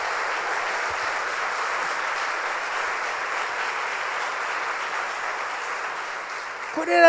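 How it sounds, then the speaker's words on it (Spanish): A church congregation applauds Jesus Christ, sustained even clapping from a large crowd at moderate distance, ending as a voice begins at the close. "Dele un aplauso a Jesucristo."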